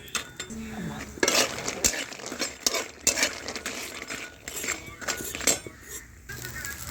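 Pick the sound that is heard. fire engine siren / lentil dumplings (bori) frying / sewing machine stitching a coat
lentil dumplings (bori) frying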